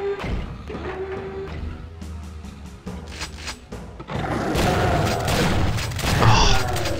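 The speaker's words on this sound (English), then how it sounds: "Oh, stop shooting me with a shotgun, it hurts." Shotgun blasts in the Doom video game: heavy booming shots mixed with game action, growing denser and louder in the second half.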